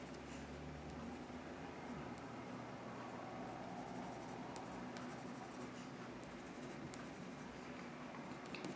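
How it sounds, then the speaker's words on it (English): A pencil crayon colouring on paper makes a steady, quiet scratchy scribble that continues without break, close up and alone. "I don't want to layer too much pencil crayon because that can also be a problem."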